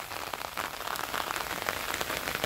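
Rain pours steadily over a garden in northeastern Brazil, a dense close patter of drops striking surfaces with a constant hiss, no voices.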